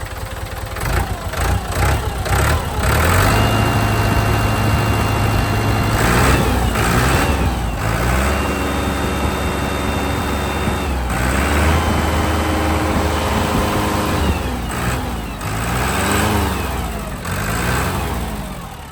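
A rebuilt 6640 tractor engine with strong oil pressure runs loud and close, idling steadily, then rising briefly in pitch as it revs before settling back to a steady idle.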